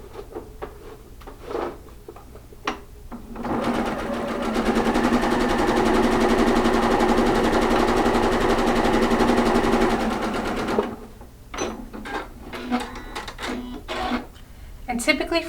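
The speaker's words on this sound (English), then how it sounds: "Now we're going to sew these triangles together." A sewing machine stitches quilt triangles together with a 1/4-inch seam, running steadily for about seven seconds in the middle. Brief handling noises come before and after it.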